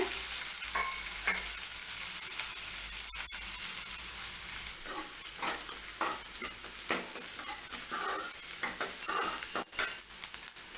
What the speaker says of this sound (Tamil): சீரகம் பொரிஞ்சதுக்கப்புறம் வெங்காயம் போட்டுக்கலாம்.